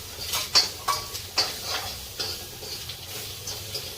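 Fried chillies, cooked in a little oil, being served from the pan into a dish, with a few light clinks and scrapes of a utensil against cookware repeating irregularly at moderate volume, with no talking.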